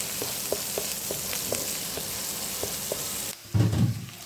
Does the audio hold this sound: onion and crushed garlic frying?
yes